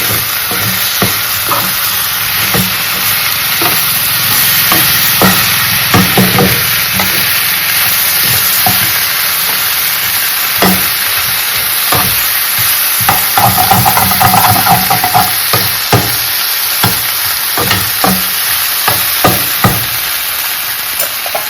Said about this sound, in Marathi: त्याला आपण इथे ना मंचुरियन मस्त फ्राय करते